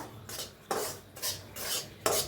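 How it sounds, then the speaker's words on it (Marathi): A spoon scrapes and stirs semolina roasting in ghee in a pan, four rhythmic rasping strokes close up and fairly quiet, with no talking. "असं हलवत भाजायचा म्हणजे खाली करपत नाही रवा"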